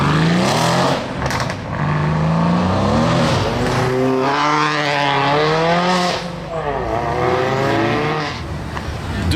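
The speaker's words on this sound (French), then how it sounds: "Deux C63 qui arrivent" Two Mercedes C63 cars arrive on a Paris street, their engines rising and falling loudly as they rev and pass close by. Someone talks over the engine noise.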